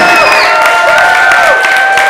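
Crowd at a turf dance battle tournament applauding and cheering for a dancer, a steady dense wash of claps and shouts with whistle-like tones running throughout.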